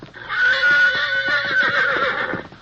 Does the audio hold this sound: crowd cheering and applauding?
no